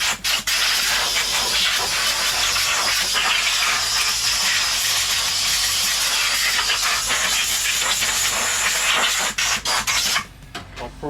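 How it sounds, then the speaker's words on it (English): A workshop air compressor runs with a loud, continuous broadband hiss and rush near a metal bandsaw, steady for about ten seconds before dropping off sharply at the end, with no talk. "the compressor is still running"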